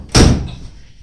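A Ford Mustang car door is shut once, close and loud, with a sharp slam followed by a short fading rattle and no other sound.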